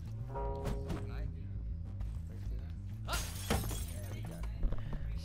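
Glass shatters in a video game with a loud crash and spray of shards, layered over continuous game music and effects, with someone talking throughout.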